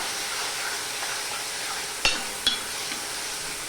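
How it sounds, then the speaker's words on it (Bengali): Onions frying in a pan until reddish-brown, a steady soft sizzle running throughout with two sharp utensil clinks midway. "পেঁয়াজটা আমি এবার লাল লাল করে ভেজে নেব"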